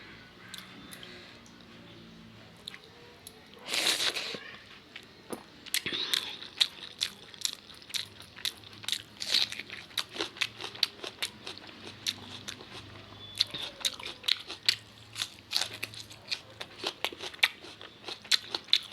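Eating rice with cauliflower, with close crunchy bites and chewing clicks that start sparse and become a steady, rapid run of small sharp crackles, alone in a quiet room.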